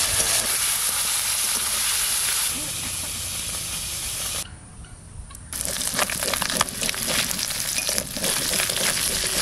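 Oil-coated tangra fish fry in a hot pan with a loud, continuous sizzle and hiss, briefly dropping away for about a second before the spitting crackle returns at full strength.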